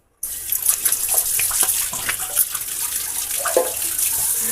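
Water runs steadily from a tap into a kitchen sink after cleaning, with a continuous close splashing rush and a few brief drips and clinks throughout.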